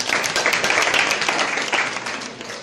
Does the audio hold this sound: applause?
yes